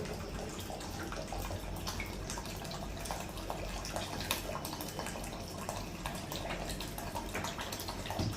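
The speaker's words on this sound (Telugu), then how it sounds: "అదే వాటర్ను మనం ఇందులో పోసి" Water poured into a Leo Life 5-liter alkaline water jar makes a steady, continuous splashing rush that holds at an even level from start to finish, with no voices.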